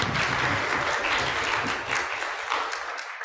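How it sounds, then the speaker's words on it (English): A worship congregation applauds during a Sunday morning service, dense continuous clapping at fairly close range that tapers off near the end. "And I want to get a round of applause for that."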